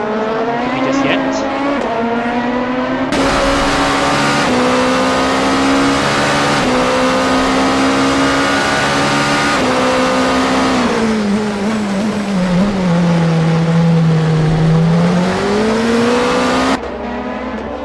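Race cars lap Motegi in a racing video game, a dense, loud engine drone rising and falling through gear shifts, sustained and close with no break.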